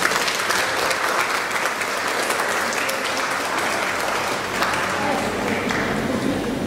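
Sustained, loud applause from an audience honoring teachers at a handwashing campaign training event, a thick even roar of clapping with faint crowd murmur underneath.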